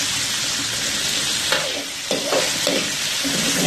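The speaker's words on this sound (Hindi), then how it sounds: "ग्रीन चिल्ली के साथ, जिंजर के साथ इसको सौते करेंगे हम अच्छी तरीके से।" Boneless chicken cubes sauté with green chilli and ginger in a pan, a loud, continuous sizzle broken by several stirring scrapes and tosses.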